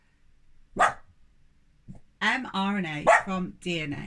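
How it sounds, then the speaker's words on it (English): A dog barks once, loud and close, in a quiet room before a lecturer resumes talking over it. "So that's my dog."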